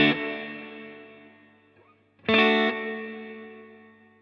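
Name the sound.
Peavey Classic 20 guitar combo amp with a shimmery chorus-like warble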